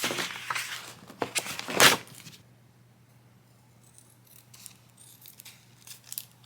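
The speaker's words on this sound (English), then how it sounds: "All right, so I'm going to cut out a few more of those." Scissors cut out stencil shapes in a burst of close, crisp snips over the first two seconds, followed by quieter scattered handling rustles over a faint steady hum.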